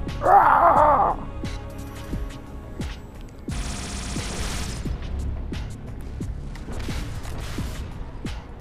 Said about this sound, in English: You can tell if you've managed to nail one by their